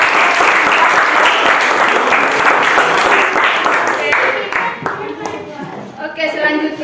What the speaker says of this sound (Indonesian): belum konsentrasi, tepuk tangan.